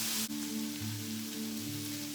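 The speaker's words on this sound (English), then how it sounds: "My fish is sizzling." Fish fries in a pan with a soft, steady sizzle of crackling hiss that lasts a couple of seconds without any voices.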